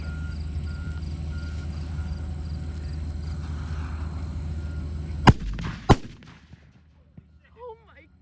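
Dynamite set off inside a truck turbo, two sharp loud blasts a half second apart after a steady idling engine hum, then fading rumble and near silence, with a faint voice at the end.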